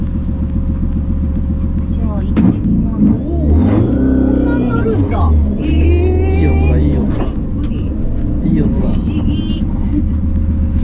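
An electric-converted Toyota AE86 driving on a public road, its motor giving a steady low hum and rising whine with rumbling road noise throughout, while people talk inside the car.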